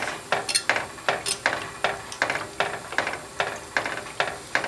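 A metal fork stirs paste dye into a dye bath in a pot, scraping and clinking against the sides in a steady, even rhythm of about a dozen close, distinct strokes with no talking.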